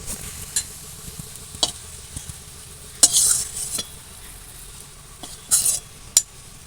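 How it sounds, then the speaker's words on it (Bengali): Onions fried to a reddish brown in a pan and lifted out: a soft, steady sizzle broken by several sharp scrapes and clinks of a spatula against the pan, with no talking. "পেঁয়াজগুলো এরকম লাল লাল করে একটু ভেজে নিয়েছি এগুলো এবার তুলে নেব"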